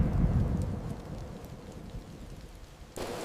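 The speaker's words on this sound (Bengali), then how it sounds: "ঝমঝম করে বৃষ্টি নামলো।" Heavy rain pours down in a storm, a dense, even hiss that is loudest at first and eases slightly, then swells again in a sudden burst at the end, with no voices.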